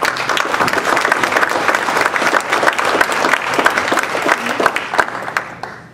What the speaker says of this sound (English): our treasurer and the manager needs a round of applause for that